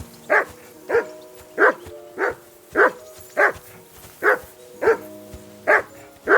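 A dog in the video game Kingdom Come Deliverance 2 barks about ten times in a steady, evenly spaced rhythm, loud and close, with no other sound between the barks.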